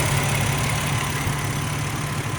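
A 2004 Ford Ranger Edge with a clutch fan idles steadily under the open hood, a close, even low rumble with constant fan and engine hum and no revving.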